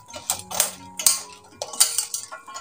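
A metal spoon stirs and scoops fried sweets in sugar syrup, sounding as sharp clinks and scrapes against the vessel in a quick irregular series, close and clear with no talk.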